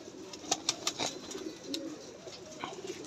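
Pigeons make soft cooing and occasional sharp wing claps at close range, with a few brief bursts standing out over a low, steady background.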